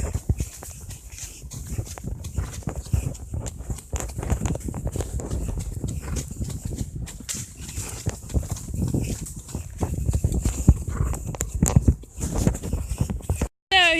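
A horse named Ellie moves along a bushy trail with steady, close clip-clop hoofbeats over rustling ground, the plodding rhythm running continuously beneath the clip.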